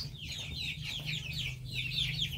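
Chickens and a rooster cluck in quick, chattering bursts close by, the calls overlapping over a constant low hum.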